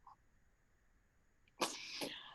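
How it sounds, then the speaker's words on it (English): A single loud, sharp sneeze bursts out close by after a near-silent stretch, ringing on for about a second during a classroom read-aloud of a play. "It was a grand sneeze."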